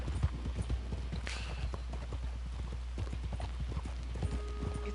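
Steady, close clip-clop of horse hooves from riding in a PS4 video game, a continuous trotting rhythm over a low constant hum, with faint talk underneath.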